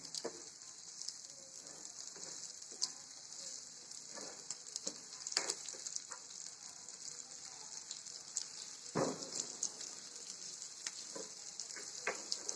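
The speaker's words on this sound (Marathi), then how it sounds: "आता हे बघा कांदे चांगले भाजून आले तर चांगले भाजायचे कांदे" Onions roasting in a pan for a chutney, a steady soft sizzle and hiss close by, with occasional clicks and scrapes of stirring and no talk.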